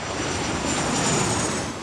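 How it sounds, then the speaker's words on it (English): A jet aircraft passing overhead gives a loud, steady, broad roar that fills the whole stretch and eases slightly at the end, with no voices. "A jet flies overhead."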